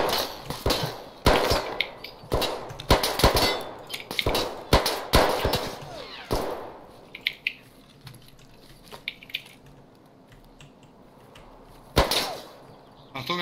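Gunfire in Escape from Tarkov: loud, sharp shots in quick irregular bursts close by, thinning out to scattered single cracks with quieter stretches between.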